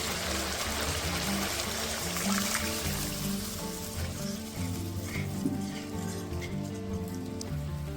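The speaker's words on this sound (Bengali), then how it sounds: "এখন আমি পরিমাণ মতো জল দিয়ে দেবো।" Water poured into sizzling mustard spice paste frying in oil for Bengali shorshe bhola fish curry, a steady loud hiss and bubbling throughout with no talk.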